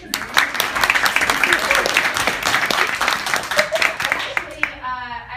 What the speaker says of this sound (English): Can you clap it up for me?